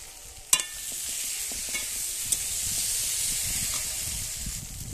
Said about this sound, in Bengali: এরপরে ভেজে রাখা কুঁদলি আলু আমি ঢেলে দিচ্ছি।